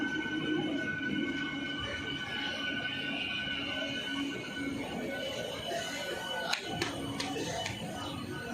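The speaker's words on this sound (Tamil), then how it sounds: "இந்த பக்கம் சென்ட்ரல்லேருந்து ஒரு ட்ரெயின் வருது." A train passes near Senjipanampakkam railway station near Thiruvallur, a steady low rumble of rolling wagons with faint wheel squeal and a few sharp metallic clanks toward the end.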